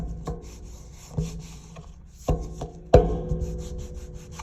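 Oiled hands rubbed across the edges of a tarot card deck, heard close up as a few short scraping strokes and soft taps over a quiet background, with no talk.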